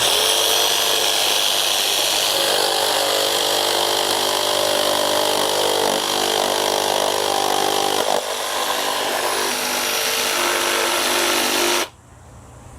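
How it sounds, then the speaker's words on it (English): A Milwaukee M12 Fuel cordless jigsaw plunge cutting into a piece of pine, a loud steady buzzing cut with harmonic whine that runs continuously for about twelve seconds, then stops abruptly. "Plunge cut into a piece of pine."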